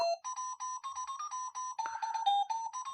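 An electronic alarm on a talking desk clock plays a repeating series of short, clear beeping tones in a quick melodic pattern, close and fairly loud.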